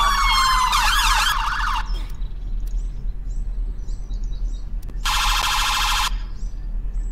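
A police officer car's siren sounds in the Roblox fire response game Kenterbury SC, a loud wailing electronic siren for about two seconds, a pause, then a second steady burst of about a second over a low engine hum.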